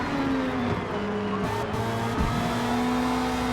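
Race cars in Forza Motorsport scream around a track while a Ferrari battles for position, engines droning loud and close with rising and falling revs and a brief tire squeal through a corner.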